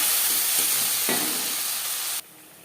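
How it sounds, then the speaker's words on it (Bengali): A loud steady sizzle of whole five-spice seeds frying in oil, with a hissing burst as ground tomato paste hits the hot pan, then the sizzle drops off abruptly. "5 ফোড়ন ভেজে নেওয়ার পর দিয়ে দেবো টমেটোর পেস্ট"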